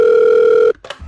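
Telephone tone: a single loud, steady electronic tone held for most of a second, then cut off and followed by a brief faint rustle.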